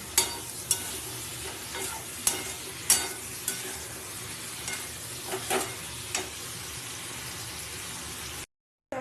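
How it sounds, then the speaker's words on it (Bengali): Onion and spices being sautéed for khichuri, cauliflower florets added, in a pan: a constant close sizzle punctuated by several sharp spatula scrapes and knocks, then a brief cut to silence near the end. "মশলার মধ্যে ফুলগুলো সব দিয়ে দেবো দিয়ে ভালো করে কষিয়ে নিতে হবে"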